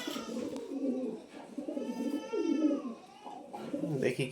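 Caged pigeons coo repeatedly during pairing, soft rolling calls close by, with a person talking over them.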